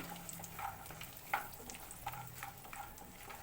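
Cashews, cardamom and raisins frying slowly over a low flame for sabudana payasa, a steady soft crackle with a few sharper pops and scraping stirs, close and fairly quiet throughout with no talking.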